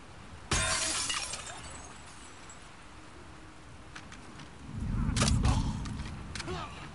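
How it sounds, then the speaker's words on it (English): Glass shatters sharply in a video game, a loud crash followed by a second burst of tinkling shards and a low rumble a few seconds later, with no talking. "If I break that glass, I tell you what."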